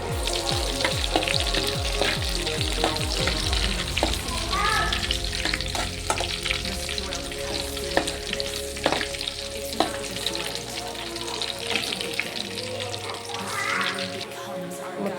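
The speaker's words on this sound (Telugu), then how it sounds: "కొద్దిగా కరివేపాకు బాగా ఫ్రై చేసుకుంటాం." Curry leaves and garlic frying hard in hot oil for peanut chutney, a loud continuous sizzle with spatula stirs and scraping knocks against the pan, and a voice talking faintly under it.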